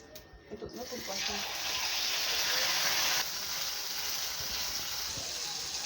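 Fish being placed into a frying pan with oil, a sudden steady hiss of sizzling that starts after a few soft knocks and holds loud and close, easing slightly partway through.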